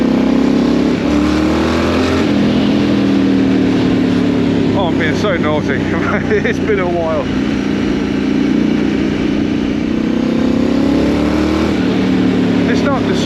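A Triumph Scrambler 900 motorcycle rumbles loudly while being ridden, its deep engine note rising and falling with the throttle as someone talks over it.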